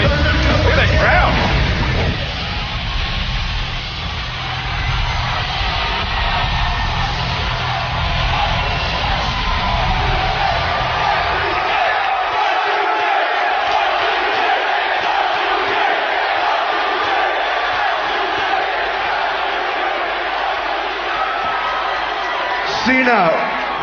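A packed WWE pro wrestling arena crowd roars, whoops and shouts in a loud, sustained wall of noise that swells and dips over time, with voices mixed into the din.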